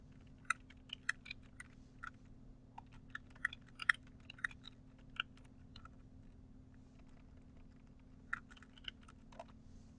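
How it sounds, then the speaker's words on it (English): Light typing on a computer keyboard produces scattered, quiet key clicks in uneven bursts over a steady low background hum. "I know I'm going to type"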